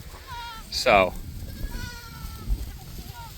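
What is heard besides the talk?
goats and sheep bleating on pasture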